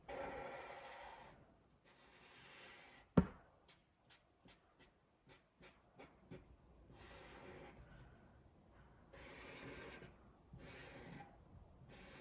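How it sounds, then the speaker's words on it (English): Sharpie marker tracing over pencil lines on paper for a chameleon drawing, faint close scratchy rubbing strokes in bursts, with a short run of quick taps partway through and quiet gaps between. "I'm gonna go ahead and trace over my pencil lines with a Sharpie."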